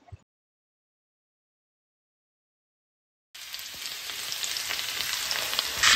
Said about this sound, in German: Die Pfifferlinge in Butter goldbraun anbraten.